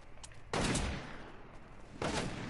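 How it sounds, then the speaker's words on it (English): Gunfire in a PS4 shooter game during an online match: two loud bursts of shots about a second and a half apart, with quieter distant shots in between. "Somebody's shooting at me."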